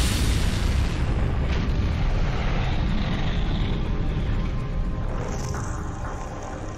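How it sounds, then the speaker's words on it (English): A massive fireball erupts from an underground gasoline storage tank in a neighborhood, a loud, sustained roaring rumble that slowly fades over several seconds. "the massive explosion engulfs the neighborhood and rises more than 300 feet into the air"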